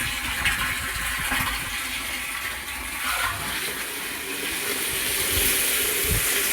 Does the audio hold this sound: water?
yes